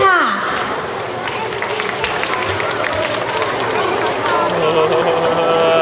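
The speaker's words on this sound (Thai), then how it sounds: "ขอเสียงปรบมือต้อนรับให้กับชุด April p เ i n e s s" An audience applauds to welcome a dance performance, a dense wash of steady clapping and crowd noise that begins just after a voice falls silent and carries on throughout.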